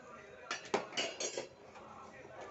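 Eggplant curry being stirred in a pot, a spoon scraping and knocking against the metal in a few quick irregular clinks, fairly close, with light background noise.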